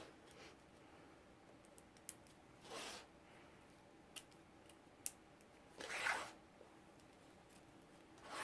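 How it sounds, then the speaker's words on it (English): Small toothed nippers snip through fabric and batting in a few quiet, scattered clicks and crunchy bursts, close up and faint, with no talking. "These little nips have teeth, so they really grab the fabric and batting too."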